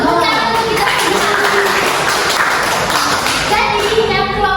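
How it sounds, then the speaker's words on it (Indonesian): A classroom of students applauding together, a steady, fairly loud patter of clapping hands with children's voices mixed in throughout. "Tepuk tangan untuk kita semua."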